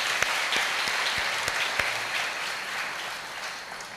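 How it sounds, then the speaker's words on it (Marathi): Audience applause during a Guru Purnima festival discourse: a dense, steady wash of clapping with several sharp, louder individual claps standing out in the first half before it settles. "याच्याबद्दल टाळ्या घ्या सगळ्यांनी."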